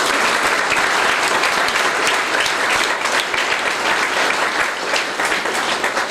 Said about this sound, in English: Please give a clap here.